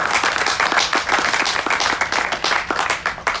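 Steady applause from an audience at a mayor's event for new solar covered parking at Evansville Regional Airport, with many hands clapping densely and evenly for several seconds.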